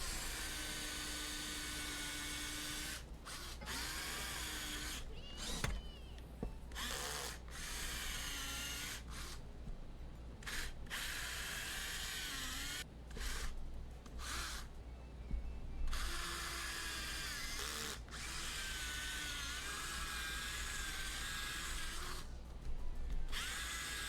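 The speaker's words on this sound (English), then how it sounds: "I'm gonna drill into it so I can set the bolt" A power drill bores into wood to seat a bolt, its high whine running in long sustained bursts separated by brief pauses, loud and close throughout.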